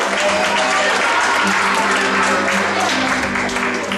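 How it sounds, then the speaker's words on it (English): An audience at a fifth-grade graduation ceremony gives a steady, dense round of applause, with many hands clapping together evenly throughout. "give Vion another big round of applause"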